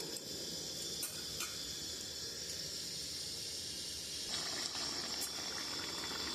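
Jackfruit and egg curry cooking down with just a splash of water in a pan, a steady bubbling sizzle and hiss with small pops, constant and close throughout.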